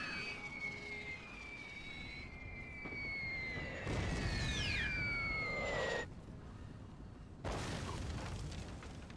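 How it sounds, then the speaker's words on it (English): Artillery guns in a World War One battle in Napoleon: Total War fire with two heavy booms several seconds apart, over whistling, falling shell tones and a steady battlefield rumble. "Very inaccurate, the artillery."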